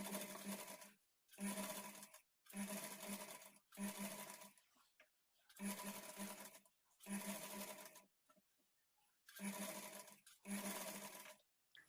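A sewing machine stitches a lined blouse in about eight short, even bursts of rapid running, each separated by a brief pause as the fabric is repositioned.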